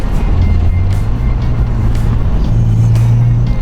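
A 1991 Mitsubishi 3000GT VR4 twin-turbo with 300 horsepower and a blow-off valve drones loudly and steadily under acceleration, heard from inside the car with a low engine hum throughout.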